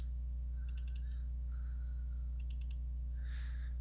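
Computer mouse clicking in quick bursts, two tight groups of three to four crisp clicks, faint and close, over a constant low electrical hum with soft rustles between.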